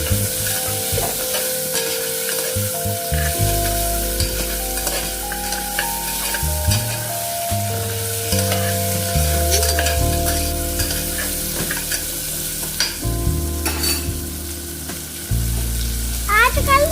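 Goat leg pieces are sautéed in a pan with ground paste, sizzling continuously as a spoon stirs and scrapes, with steady clatter throughout.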